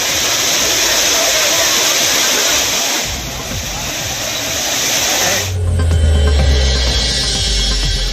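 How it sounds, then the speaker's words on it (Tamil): A loud, steady roar of cascading water at the Courtallam waterfall where tourists are bathing, a dense continuous hiss that shifts tone midway, with a low rumble joining near the end. "குற்றால மீன் அருவியில் 2 நாட்களுக்கு பிறகு குறைந்த வெள்ளப்பெருக்கு. தடை நீக்கப்பட்டதால் குளித்து மகிழும் சுற்றுலா பயணிகள்."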